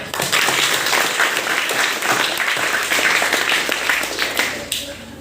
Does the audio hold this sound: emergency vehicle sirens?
no